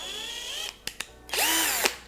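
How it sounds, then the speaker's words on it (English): An Amazon-bought cordless power drill whirring up to speed in short bursts, with a steady high whine that dips between two quick clicks before spinning up again, close and loud. "I also have a drill that comes with it as well."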